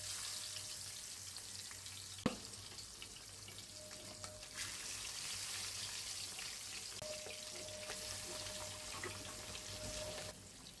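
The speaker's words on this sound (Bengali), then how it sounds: "আমি এটা 2 মিনিট ভাজা করব।" Pieces of fresh Padma hilsa fish fry in oil, giving a faint continuous sizzle with a sharp utensil knock near the start and a soft tonal hum in the background.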